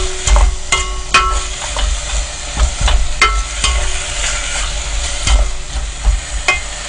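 Seaweed and beef stir-fry in a pan for Korean beef seaweed soup, a steady loud sizzle close by, punctuated by repeated clacks of a utensil scraping and stirring against the pan.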